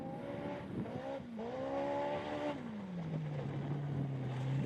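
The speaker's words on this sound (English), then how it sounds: "Listen to the engine in that thing" Pro R off-road race vehicle engine at NORRA Baja qualifying in Ensenada, revving with a steady harmonic whine that climbs, dips, then falls into a lower sustained drone, loud and close throughout with no voices.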